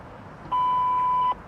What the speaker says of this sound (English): At the tone, 0 hours, 44 minutes, coordinated universal time.